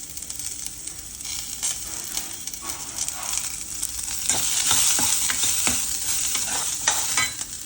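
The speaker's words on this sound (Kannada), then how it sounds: "ಜೀರಿಗೆ ಈಗಲೇ ಹಾಕ್ತೀನಿ ನಾನು." Cumin seeds fry in hot oil with a loud, continuous crackling sizzle close up, intensifying partway through amid faint stirring scrapes and no talk.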